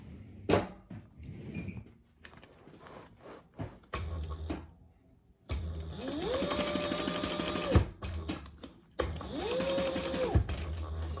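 A sewing machine stitches a bag seam from the inside in two sustained runs, each a steady whirring buzz of a few seconds, separated by fabric handling, rustling and clicks.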